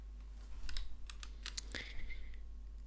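A computer keyboard is typed on close up, in a run of crisp, irregular key clicks and taps over a steady low hum.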